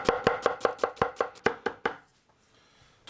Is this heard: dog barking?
no